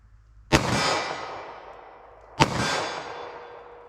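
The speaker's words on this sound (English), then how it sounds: "Shoot center mass, see what I get." Two loud, sharp pistol gunshots from a short-barrel handgun firing Winchester Silvertip rounds, spaced about two seconds apart, each with a quick ringing decay, at an outdoor range.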